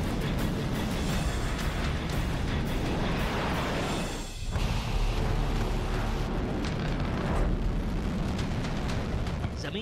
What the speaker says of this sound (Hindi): जमीन पर आग का गुबार छोड़कर आसमान की गहराई में गुम हुई इस मिसाइल